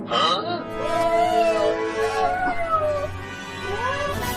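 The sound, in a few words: cartoon cat meowing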